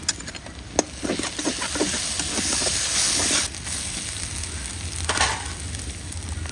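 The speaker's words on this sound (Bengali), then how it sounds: "পেঁয়াজ একটু কাঁচামরিচ লাল লাল করে ভেজে নিব" Onion and green chili fry in hot oil in a pan, giving a steady close sizzle with light stirring scrapes and a brief louder hiss partway through.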